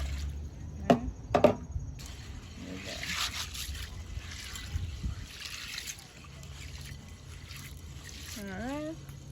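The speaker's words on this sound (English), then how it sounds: "we're gonna wash the peas and then we're gonna put them in our pot" Red peas for Jamaican soup being washed in water, with splashes, trickles and dribbling sounds close by, a couple of sharper knocks early on and a squeaky sound near the end.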